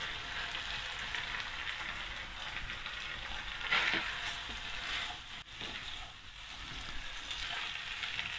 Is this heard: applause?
no